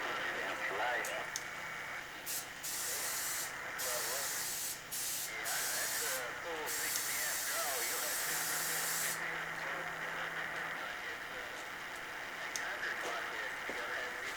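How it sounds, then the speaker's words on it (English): Carburetor cleaner sprays in long hissing bursts onto the outside of a new A/C compressor on a 2006 Jeep TJ. The close spray hiss starts and stops several times over steady background noise, and a person talks throughout. "I just sprayed the outside of it."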